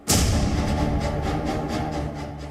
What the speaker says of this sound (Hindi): एक एक कर चलती रही गोलियां